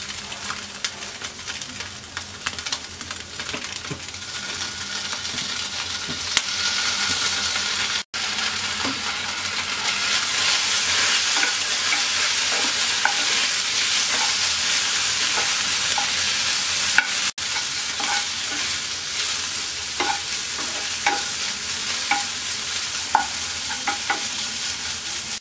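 Chicken frying in a pan and being stirred, a loud continuous sizzle with repeated scraping and clinking of a utensil close by, no one speaking.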